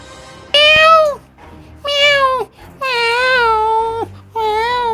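A cat meows four times in drawn-out, whining cries with short pauses between them, loud and close, over a faint low background murmur.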